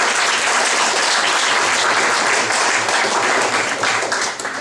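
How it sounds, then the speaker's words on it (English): Loud, continuous applause from an audience at a Rotary club scholarship event honoring high school students, holding steady and then easing slightly at the close. "let's have a round of applause for these students"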